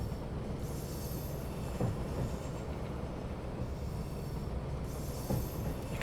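Class 156 diesel multiple unit running on the Glasgow to Mallaig route in Train Sim Classic, a continuous rumbling cab drone with rail noise and a few soft periodic wheel clunks, heard alone.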